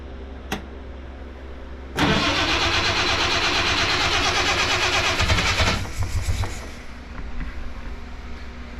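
An old engine cranks briefly, then catches and roars loudly for several seconds before settling to a rougher, uneven idle. The sound is close and steady, with no talking.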